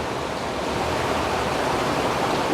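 A waterfall roars steadily below a road, a dense, even rush of falling water heard from nearby with no breaks.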